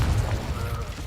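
A Confringo blasting spell detonates in Hogwarts Legacy, a short low booming burst with rumbling bass that fades quickly, close and loud.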